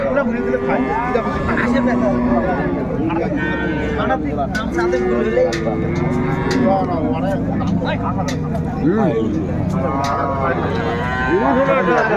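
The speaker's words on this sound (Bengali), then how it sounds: "গাভী বাছুর আমরা দেখছিলাম" Dairy cows and calves low repeatedly against a steady background of people talking, the moos overlapping the busy murmur of a crowded outdoor cattle market.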